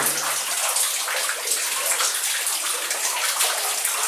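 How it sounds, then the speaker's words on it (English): Cold water showering down from the roof of a flooded underground gold mine adit, a loud, close, continuous splashing patter like a running shower, no talk. "Trying to avoid this shower here. It's going to be a cold shower."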